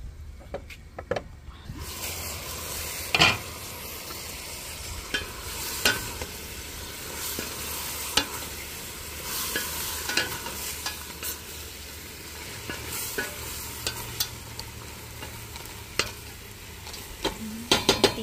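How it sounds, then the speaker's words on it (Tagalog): Galunggong, round scad fish, fries in a pan with a continuous soft sizzle and crackle, punctuated by occasional sharp pops and utensil clicks, moderately quiet and close. "magpiprito tayo ng galunggong"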